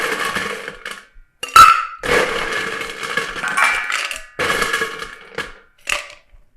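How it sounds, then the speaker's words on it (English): Ice cubes are scooped into a cocktail shaker until it is half full, making a string of clattering, rattling bursts with brief pauses between scoops, close by. "I'm going to go ahead and fill my cocktail shaker about halfway up with ice."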